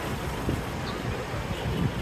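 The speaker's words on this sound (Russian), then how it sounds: "Сейчас поднялся ветер." Wind blowing outdoors and buffeting a Pixel 7 smartphone microphone, a steady low roaring rumble with slight gusts swelling throughout.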